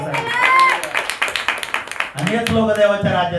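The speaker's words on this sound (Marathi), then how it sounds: "टाळ्या" Scattered hand claps from a church congregation break out in a short run of sharp, uneven bursts, mixed with voices that carry on over and after them.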